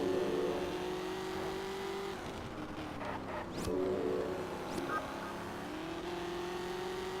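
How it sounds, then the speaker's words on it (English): A car engine in Test Drive Unlimited drones at a steady pitch, then drops out and hesitates several times as it struggles to shift gears, with a brief higher whine between the dips. "This car is having real issues shifting for some random reason."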